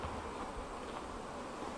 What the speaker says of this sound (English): You can get a good view of how many bees are in here